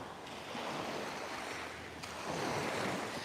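Waves wash onto the beach at Playa de Muro, Mallorca, in a steady soft roar of surf with some wind noise on the microphone, moderately faint and with no one talking.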